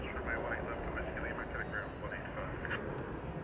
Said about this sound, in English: we got a Frontier flight coming in from Ontario